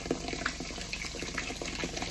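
Mountain Dew soda pours out in a steady, close liquid stream with faint fizzing and bubbling throughout, moderately quiet and without speech.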